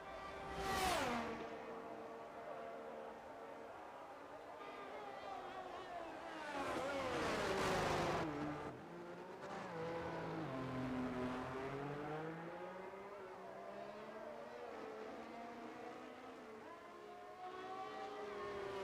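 A Formula One car runs around Monza through the Parabolica in a racing video game, a fairly faint engine whine rising and falling in pitch with gentle throttle changes and a louder surge partway through.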